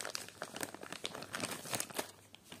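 Close crinkling and ripping of plastic as a sealed bag holding a car part for a Lada Niva Travel is torn open, a quick run of sharp rustles lasting a few seconds.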